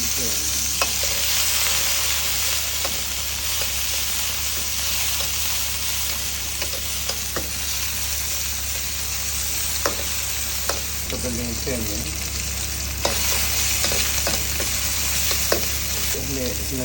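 Tom yum fried rice sizzles steadily in a hot pan while a utensil stirs and scrapes it, with sharp clicks and scrapes scattered over the constant frying hiss.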